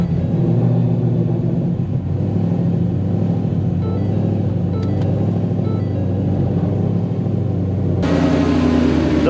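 A cammed, Whipple-supercharged Ford GT500 V8, just out of six months of winter storage, rumbles at a steady, loud idle after starting, with a lumpy low drone that stays constant and swells slightly near the end.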